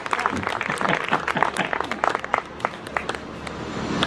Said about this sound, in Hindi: एक बार पहले ताली बजा दो